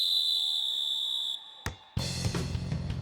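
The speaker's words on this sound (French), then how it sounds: "Et l'arbitre siffle le coup d'envoi." A cartoon referee blows a whistle for the kickoff of a football match. A sustained, bright, shrill tone is followed by a short crack, then a burst of crowd noise rises.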